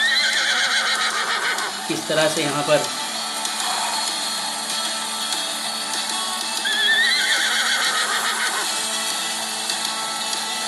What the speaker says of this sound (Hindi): देखिए ये घोड़ा